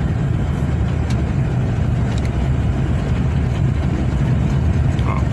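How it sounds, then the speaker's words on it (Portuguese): A car travels along a quiet, dusty street in the small town of Assaré, Ceará, its engine a steady low rumble that stays fairly loud and even throughout, with no voices over it. "Um carro agora."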